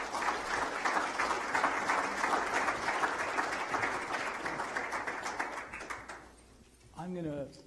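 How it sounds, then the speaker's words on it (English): Sustained applause from a conference audience greeting panel guests, including Malley Industries and Verisource Solutions CEOs, fairly loud and dense for about six seconds before fading, then a voice begins speaking. "Let's give them a round of applause."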